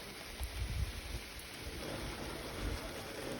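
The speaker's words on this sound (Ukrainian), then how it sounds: "А шумить дощик." Steady rain falls in a dense, continuous patter, with a low rumble underneath and no voices.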